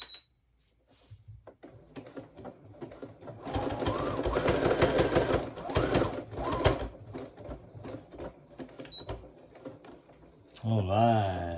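A sewing machine runs a zigzag stitch on plaid fabric for men's pants in a long steady mechanical whir that fades to light ticking, then revs briefly again; a voice talks faintly over it.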